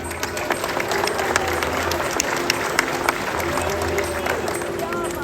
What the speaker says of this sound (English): So let's give a round of applause to Javi.